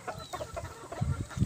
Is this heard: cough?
no